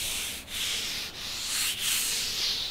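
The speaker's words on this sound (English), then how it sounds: "And then block sand it." Epoxy primer on a car body panel is block sanded in three long, even rasping strokes with brief pauses between them, a steady rubbing hiss that sounds close and carries no speech.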